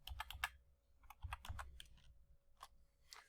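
Quiet, close keyboard typing on a computer: a quick burst of keystrokes, then scattered taps and a final short flurry, with no talk.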